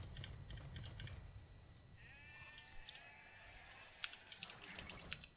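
Sheep bleating in the video game Age of Empires II, a wavering sheep bleat in the middle of the clip over a low game rumble, with a few sharp clicks and interface ticks around it.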